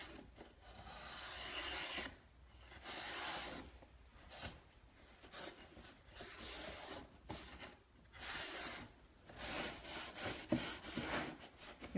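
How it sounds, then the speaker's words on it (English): Dark wax rubbed by hand onto a chalk-painted picture frame, a close, soft rhythmic scrubbing with back-and-forth strokes that swell and pause over and over, no speech. "We'll wax it."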